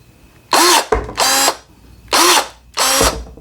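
A DEWALT cordless pruner cuts through cables in four loud, close motor bursts of about half a second each, a whirring hum with a snip at the end of each stroke.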